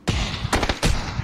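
Three loud, sharp 12-gauge shotgun blasts in the battle royale game PUBG, spaced roughly a quarter second apart, each with a ringing tail, and no talk over them.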